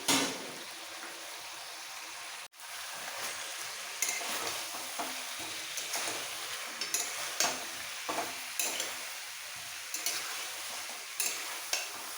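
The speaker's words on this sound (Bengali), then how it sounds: "একটু কষিয়ে দিয়ে দেবো চিকেন আর আলুগুলো" Chicken and potato pieces frying with spices for chicken biryani, a soft steady sizzle with repeated spatula stirs and scrapes against the pot, no voices.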